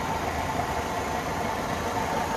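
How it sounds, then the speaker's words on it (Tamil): A Hyundai Verna 1.6 VTVT petrol engine idles steadily, a constant low rumble with a faint mechanical whir, close by and unbroken, with no talking. "டே வண்டி ஸ்டார்ட் பண்ணுறா."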